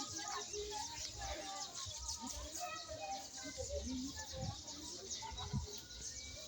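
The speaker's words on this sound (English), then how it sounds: "Can you hear those birds?" Birds chirp and twitter outdoors in a busy, steady chorus of short calls, with voices and other outdoor activity in the background.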